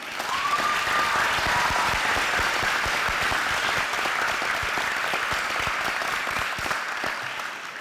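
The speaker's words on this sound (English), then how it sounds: "Could we please give Ms. Clark one more hand?" A commencement audience gives Ms. Clark sustained applause, a dense, even wash of many hands clapping that holds loud for the whole stretch, with a faint crowd murmur beneath and no speech over it.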